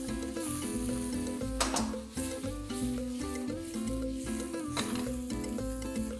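Squid rings and roughly cut cuttlefish are stirred as they fry in a paella pan. A soft sizzle sits low beneath loud, continuous background music.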